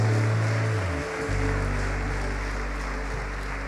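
A church congregation claps for Jesus, a dense, steady wash of applause that fills the room and carries on evenly after a low rumble fades early on.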